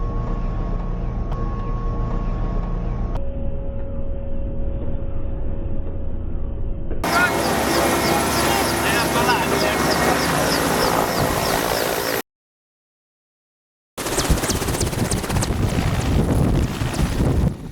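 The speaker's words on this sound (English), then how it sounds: "This army helicopter is a beast." A loud army helicopter taking off in Helambu, Nepal, roars with heavy rotor thumping and wind buffeting the microphone, the noise cutting out briefly before returning just as strong.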